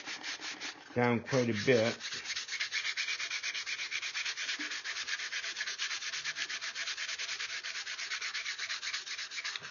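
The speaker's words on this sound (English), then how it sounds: "this is only 120 grit sandpaper" Hand sanding a wooden rifle stock part with 120 grit sandpaper, a steady rasping scrape repeating in quick even strokes for most of the stretch, close and clear, following a brief spoken phrase near the start.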